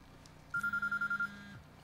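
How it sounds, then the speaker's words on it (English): A phone rings in the video game Quantum Break, a short electronic warble pulsing rapidly in about eight even bursts, close and clear over quiet game ambience. "It's a phone call."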